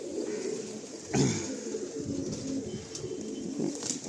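Mastan pigeons kept for sale make soft, low, close cooing throughout, with a brief louder flutter about a second in.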